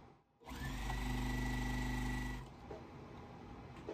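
A sewing machine runs in one steady burst of about two seconds as quilt blocks for a four-patch basket are stitched together, then stops, leaving quiet handling noise.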